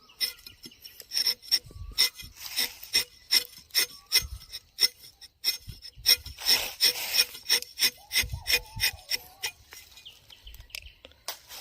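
Repeated rhythmic scraping and rasping strokes of a rubber tapping knife across rubber tree bark, fairly close, with faint birds chirping in the background.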